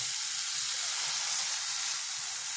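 A paste of peas, green chili and garlic sizzles steadily in a hot pan on lowered heat, a continuous bright crackling hiss with no voices.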